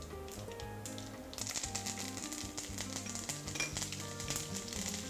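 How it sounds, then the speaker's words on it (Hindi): Mustard seeds and curry leaves sizzle and crackle in hot oil while tempering for a homemade poha chivda snack, a steady close frying hiss with scattered pops that grows busier after the leaves go in. "राई जैसे ही तड़केगी हम इसके अंदर कड़ी पत्ता डालेंगे।"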